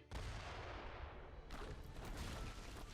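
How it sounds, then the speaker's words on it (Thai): Mortar artillery fire in the Age of Empires III Definitive Edition strategy game: loud booming blasts and rumbling impacts fill the whole stretch, with a fresh barrage of shots landing midway. "โอเค ป่ะมอต้ายิงเข้าไปลุย"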